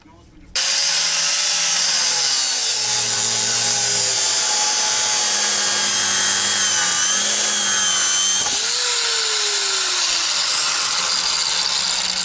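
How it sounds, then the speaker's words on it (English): A power tool cuts through a stuck, spinning sway bar link bolt on a 1997 Chevy S10 4x4 front end, giving a loud, sustained high-pitched whine that shifts pitch under load and dips briefly near the end. "since this bolt wants to spin, and there's really no way to get a tool on there, we're just going to cut it."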